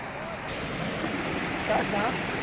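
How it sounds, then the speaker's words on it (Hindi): A waterfall on the Yakhtangi river in Shangla district pours in a steady, continuous rush of water, moderately loud and close, with no break across the whole stretch. "आबशार बह रही है, ये आबशार का पानी आ रहा है।"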